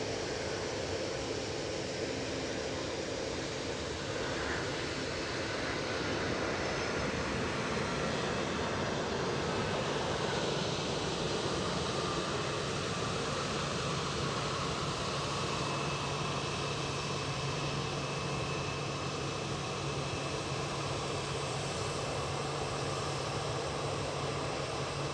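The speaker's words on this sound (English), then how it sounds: "Got a Ryanair in the foreground, so it's probably going to be a bit noisy for background." A Ryanair airliner at Edinburgh Airport gives off a steady, broad engine roar and whine, loud and continuous throughout with no talking.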